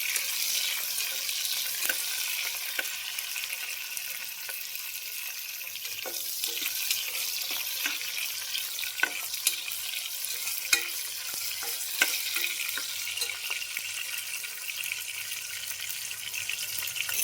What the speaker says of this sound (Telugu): ఆనియన్స్ అయితే బాగా వేగినాయి. టమోటాస్ వేసేసుకుందాం.